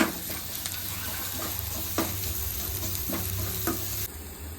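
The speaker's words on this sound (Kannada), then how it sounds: "ಇನ್ನು ಸ್ವಲ್ಪ ಫ್ರೈ ಆಗಬೇಕು ಈರುಳ್ಳಿ." Onions fry in a pan for egg fried rice, a steady close sizzle with intermittent stirring scrapes throughout, the sizzle dropping away abruptly near the end.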